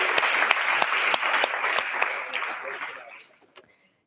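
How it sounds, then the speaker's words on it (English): Audience applause at a hackathon pitch event, sharp individual claps within a moderate crowd that fades out over a few seconds, ending with one last isolated clap. "I just can say a big applause to all the teams"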